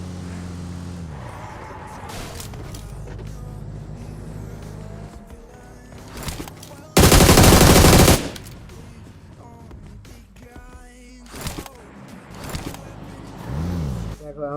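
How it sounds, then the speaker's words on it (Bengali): Enemy gunfire erupts in PUBG Mobile as a sudden, loud burst lasting about a second. Vehicle engine noise, scattered in-game sounds and a talking voice surround it. "এখান থেকে যাওয়ার সময় দেখি এনিমি ফায়ার করছে"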